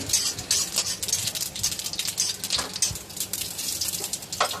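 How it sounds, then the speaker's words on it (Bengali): Whole cumin seeds, about a spoonful, frying in tempering oil in a wok: a steady, close crackling sizzle with fine spattering pops that runs throughout without letup. "ওই তেলের মধ্যে আমি গোটা জিরে দিয়ে দিলাম এক চামচ মতো জিরেটা একটু ভালো করে ভেজে নিতে হবে"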